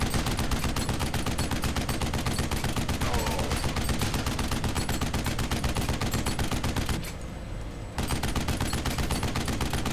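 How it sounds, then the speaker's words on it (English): Rapid, continuous enemy gunfire in the game Duke Nukem Forever, dense automatic bursts rattling close and loud, with a brief dip near the end before the shooting resumes. "Well, he's shooting at me now."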